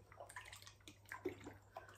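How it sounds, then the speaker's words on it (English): Marshmallow root infusion is poured through a sieve into a glass, making a soft, intermittent trickle and light splashing that stays quiet and close, with no voices. "just pour some into a glass"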